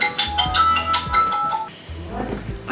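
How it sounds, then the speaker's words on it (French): A phone ringtone plays as a bright, melodic chiming pattern of repeated notes, fairly close and loud, with a pause before it resumes near the end. "Fralti, ton téléphone."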